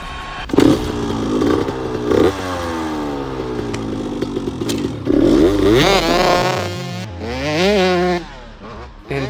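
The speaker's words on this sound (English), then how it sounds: "Everything is lined up, ready to go on bike and fired it up." A motorcycle fitted with a custom-made carbon fiber exhaust fires up and revs repeatedly, loud and close, its engine note rising and falling in sweeping blips before settling to a throaty idle with a final crackle.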